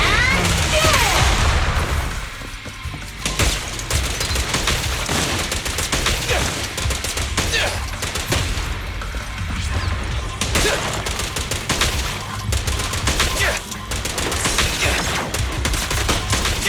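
Zenless Zone Zero combat gunfire against ethereals, with sustained loud volleys of shots layered over game noise and occasional crashes across a long stretch, while voices speak at times.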